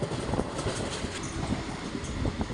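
Heard from aboard a train passing Tirunavaya railway station in Kerala, a steady, loud rolling rumble of the carriages with faint rhythmic wheel clatter and no talk.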